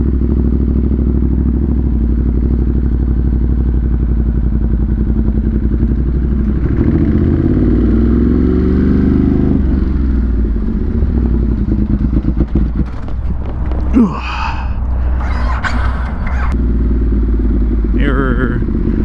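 Motorcycle fresh from a service runs steadily with a constant low engine drone close by, building in revs partway through, with clattering and scraping noises near the end and wind rumble throughout.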